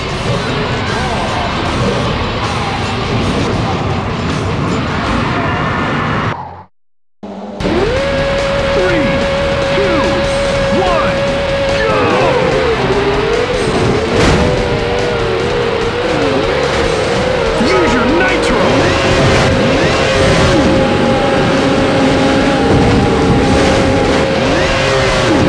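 Off-road trucks in the PS2 racing game Offroad Thunder roar and rev loudly at the race start, with a brief cut to silence, then continuous engine drone, revving pitch sweeps and passing vehicles.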